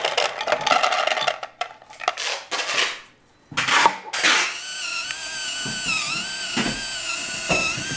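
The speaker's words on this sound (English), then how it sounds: "It had some difficulty turning the dispenser." A small motor in an Internet-connected snack dispenser strains to turn a wheel loaded with almonds, giving rough grinding and crunching bursts that stall briefly, then a steadier whirring drone with faint squeaks, close and fairly loud with no talk.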